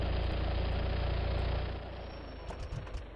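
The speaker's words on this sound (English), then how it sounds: "Oh, you can even hear that engine." A car engine runs steadily in Car Mechanic Simulator 2015, a low continuous drone that drops in level about halfway through, followed by a few faint clicks and small knocks.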